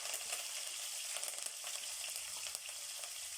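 Green chillies and curry leaves sizzle in hot tempering oil already crackling with cumin and mustard seeds, a steady dense hiss close up with small pops throughout and no talking.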